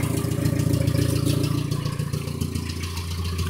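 A 1996 Geo Tracker with its muffler deleted idles nearby, a loud, steady, throaty exhaust rumble with a slight uneven pulse throughout.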